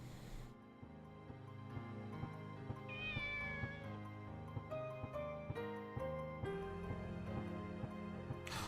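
A cat meows in the video game Shenmue, a few rising and falling cries heard over steady background game music.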